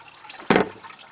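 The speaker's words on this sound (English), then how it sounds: "I can hear it coming out down in the drain pan." A single brief splash of engine oil, flushed with diesel fuel, runs into a drain pan under a 5.3 Firebird engine, then fades back to near silence.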